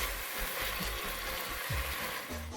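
Peppers fry in a pan for a vegan dinner, giving a continuous soft sizzle with low rumbling and scraping underneath, steady throughout.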